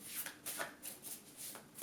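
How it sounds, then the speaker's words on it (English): A brand-new zombie-themed tarot deck being shuffled by hand, soft repeated papery riffles in a quick steady rhythm, close and quiet with no talking. "This is a zombie deck. I've never worked with it before, so I'm gonna shuffle it."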